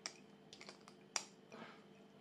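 A perfume bottle cap, a Dolce & Gabbana K Eau de Parfum Intense, gives a few small, faint close-up clicks in quick succession, with one sharper snap near the middle.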